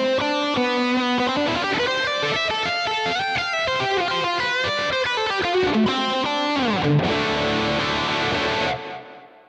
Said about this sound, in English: I used quite a wide stereo delay.